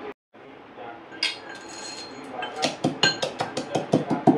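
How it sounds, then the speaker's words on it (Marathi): Roasted skin-on peanuts are pounded fine by hand in a small mortar, a quickening series of hard, clinking knocks that grow louder and more regular toward the end. "इथे मी 7-8 शेंगदाणे घेणार आहे बारीक कुटून"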